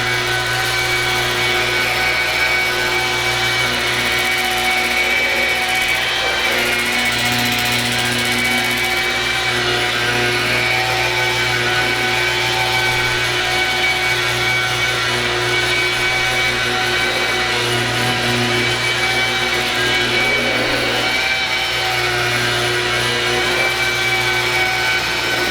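Polisher with a very soft pad buffing the paint of an older car: a continuous loud motor whir with a steady low hum and slight pitch wavering as pressure shifts, no talk.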